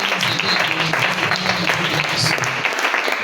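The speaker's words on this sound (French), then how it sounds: "Nous bénissons Dieu par nos acclamations" Dense applause and acclamation from a Sunday church congregation, continuous loud clapping and crowd noise filling the space throughout, fairly close, with voices blended into it.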